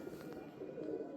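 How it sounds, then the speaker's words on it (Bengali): A female Teddy pigeon cooing close by, a soft, low, steady coo that runs through the whole moment with no voices over it. "আমি আজকে আপনাদেরকে আমার ঘরের একটা টেডি মাদি কবুতর শখ করাচ্ছি"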